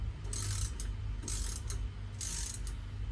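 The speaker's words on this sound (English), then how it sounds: "So we got a ratchet. We're going to tighten the nuts down." Ratchet tightening the nuts during an axle bearing install, with three short bursts of quick clicking close by over a low background hum, no speech.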